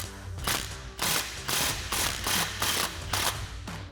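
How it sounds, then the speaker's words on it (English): A hand ratchet with a 15mm socket tightens an exhaust clamp on a Dodge Charger, giving a close series of rhythmic clicking strokes, about eight pulls in quick succession. "And then we'll snug that up with our 15mm socket too."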